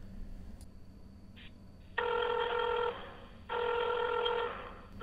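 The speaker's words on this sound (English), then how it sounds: "That sounds like I'm dialing an old rotary phone." Old-fashioned telephone ring tone heard down a phone line while calling a number, two buzzy ringing bursts about a second long with a short gap between, over a faint hissing line.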